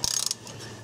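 A hand ratchet clicks rapidly in a short burst of about eight metallic pawl clicks while loosening starter motor bolts on a Buick LeSabre, close and fairly quiet, followed by a faint scrape.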